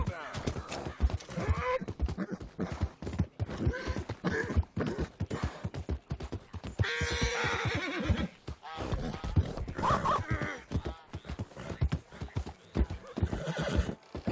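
A horse in Red Dead Redemption 2 trots with rapid clip-clopping hooves and lets out loud neighs and whinnies, with someone talking over parts of it.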